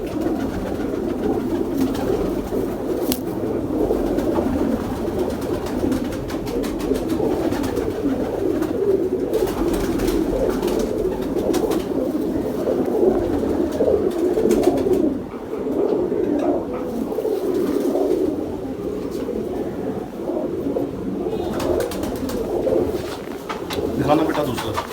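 Pigeons cooing in a loft, a continuous low murmur of coos and bird calls under someone speaking.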